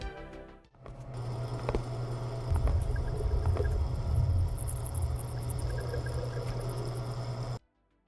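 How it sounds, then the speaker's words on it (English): A video game door opens with a steady low electrical buzz, joined by faint high ticking and clicks, holding for about seven seconds before cutting off abruptly. "the buzzing noise that we hear as the door is opened"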